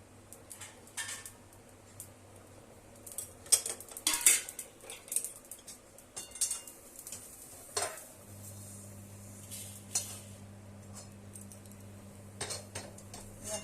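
Utensil clinks and scrapes against a wok as something is stirred and lightly fried in a little mustard oil for gurer achaar, a steady low hum beneath and sharp scattered taps throughout, with no talking.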